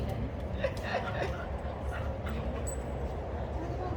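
Puppies at a socialisation group play together, giving short yips, whimpers and small barks over steady background noise while people talk nearby.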